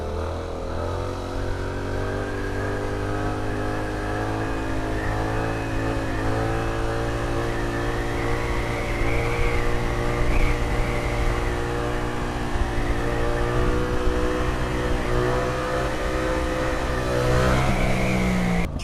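A motorcycle engine holds steady throttle while the bike is lifted onto its rear wheel, giving a loud, close, continuous drone with small surges in pitch that swell slightly toward the end.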